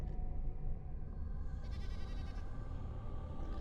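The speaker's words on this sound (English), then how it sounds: "I hear a goat." A goat bleats in a Dragon Age: Origins game scene, a faint call over a steady low rumbling ambience.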